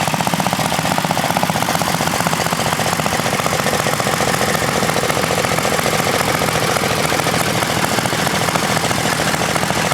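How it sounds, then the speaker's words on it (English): A small vintage stationary engine runs steadily at an engine display, a loud, even rapid chugging that stays constant from start to finish with no talking. "There's a few more small stationary engines."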